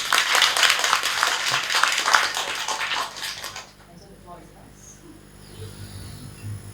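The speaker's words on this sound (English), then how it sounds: "Ladies and gentlemen, please give a round of applause to Enzo." A round of applause from an audience at a Penang Hill festival talk, brisk, dense clapping for about three and a half seconds that then cuts to quiet room noise.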